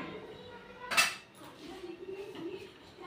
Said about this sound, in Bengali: এবার আমি একটা থালা দিয়ে চাপা দিয়ে দিচ্ছি